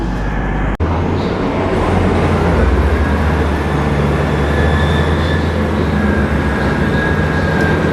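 Loud, steady rumble of a train at a station, with a constant low drone and a faint high whine, broken once by a sharp click near the start.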